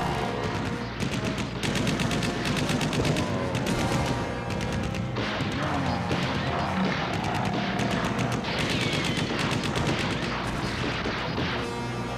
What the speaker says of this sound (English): Bullets don't do anything to it.